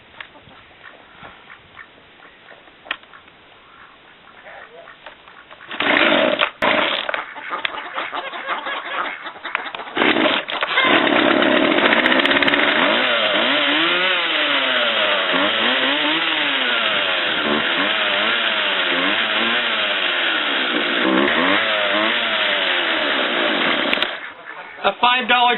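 A Poulan 2150 chainsaw with a newly replaced primer bulb sputters for a few seconds, then catches and runs loud and steady, its revving engine droning for nearly twenty seconds before cutting out.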